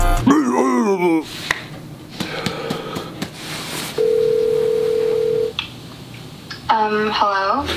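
A telephone tone sounds on a call, a steady single pitched tone lasting about a second and a half in the middle, surrounded by a voice singing and talking at either end.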